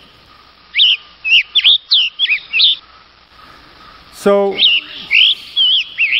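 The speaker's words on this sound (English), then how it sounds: "The tanager on the east coast of the United States, where the forests are a little denser, has one kind of call" Tanager calls: a series of short, bright chirps and whistled phrases, fairly close and clear, with a brief rising harmonic burst midway and a single spoken word between the calls.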